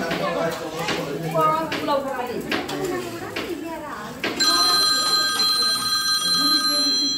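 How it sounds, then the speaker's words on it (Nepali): Voices talk for a few seconds, then a telephone begins ringing with steady, repeated electronic tones. "यहाँ फोन आयो"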